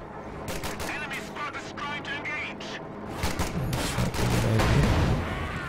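Rifle squad gunfire and battle noise from Company of Heroes 2, with a StuG assault gun moving in, as rapid cracking volleys and booms build in density and loudness under continuous excited commentary.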